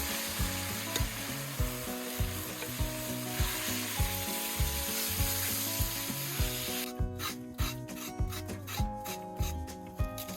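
Meat sizzles and fries in a kazan for plov, a dense, steady hiss close up, with regular scraping strokes of stirring; no one speaks.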